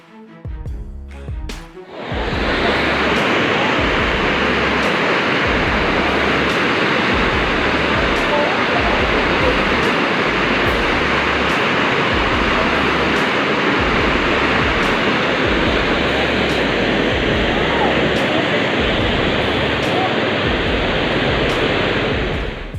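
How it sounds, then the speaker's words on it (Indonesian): Floodwater from a flash flood rushes down a river channel at Pulukan village in Jembrana, Bali. It makes a loud, continuous roar close at hand that starts after a brief muffled opening and never lets up. "Banjir bandang terjadi di aliran sungai Desa Pulukan, Kecamatan Pekutatan, Kabupaten Jembrana, Bali"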